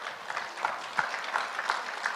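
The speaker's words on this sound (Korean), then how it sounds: "지금 시간이 오바되니까 박수를 치시면 안 돼요." Light, scattered clapping from a church congregation during a pastor's sermon, thin and fairly distant, with irregular hand claps rising and falling over a couple of seconds.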